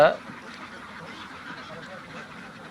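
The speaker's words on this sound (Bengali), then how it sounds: "অনেক সুন্দর হাঁসের খামারের সামনে আমরা দাঁড়িয়ে রয়েছি" Ducks at a duck farm, a few quacks near the start followed by a faint, busy murmur of the flock, with some background talk.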